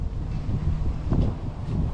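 Steady wind buffeting the microphone, a low rumbling roar with gusts swelling and fading, loud and continuous with no talking.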